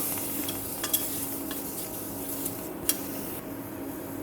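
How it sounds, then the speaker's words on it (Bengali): Steady crackling sizzle of green chilies frying in hot oil, close and continuous, with a couple of faint clinks partway through. "এখন কাঁচামরিচগুলো ভেজে নিব।"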